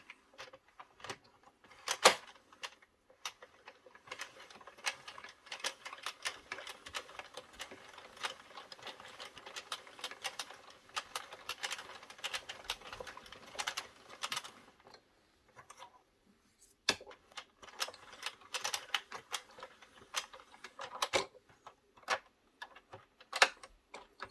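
A circular knitting machine is cranked slowly, producing a dense run of quick, light mechanical ticks and clacks, fairly close and steady, with a brief lull partway through before the clicking resumes.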